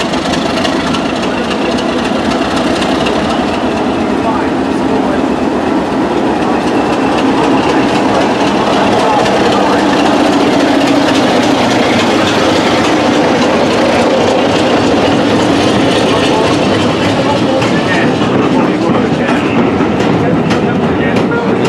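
A train on the Kent and East Sussex Railway rumbles past close by at Tenterden Town Station, loud and steady, with rhythmic clickety-clack of wheels over rail joints throughout.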